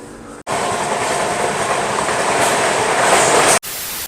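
The Anand Vihar–Patna summer special train (02352) running at speed, a loud, close, continuous roar of wheels and rattling carriages that starts and stops abruptly, with no voices.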